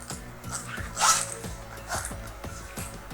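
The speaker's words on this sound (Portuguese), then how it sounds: "Fechar aqui o nosso zíper." A zipper on a fabric lunch bag is pulled shut in a few quick rasping strokes, one louder burst near the middle, heard close up over a faint steady hum.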